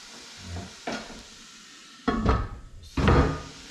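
Vegetables sizzle in bacon grease in a pan at a camp cooking setup, a steady frying hiss broken by stirring scrapes and louder bursts as more food hits the hot fat.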